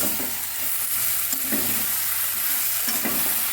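A curry sautés in a pan on a home stove, with a continuous close sizzle of frying and a spoon scraping and stirring at a regular rhythm.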